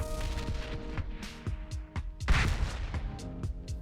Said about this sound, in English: today I will show you how I created this 2D explosion